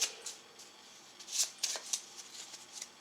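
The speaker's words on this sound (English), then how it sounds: "I'm just going to give him a quick overhand shuffle for this" Rapid papery riffling of playing cards being shuffled overhand, in short uneven bursts close to the listener, with no talking.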